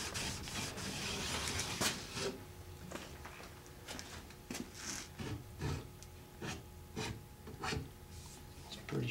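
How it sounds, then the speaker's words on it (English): A blade edge is polished by hand with 200 grit abrasive, giving soft, close rasping rubs in an irregular rhythm of short strokes, with no talk. "Just kind of polishing out any marks that we left in there with the 200 grit."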